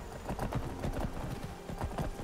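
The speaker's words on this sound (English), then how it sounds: "I'm riding my horse around just so we don't lose it." Horse hooves clop in a steady galloping rhythm as a rider travels in a survival video game, close and continuous with no speech.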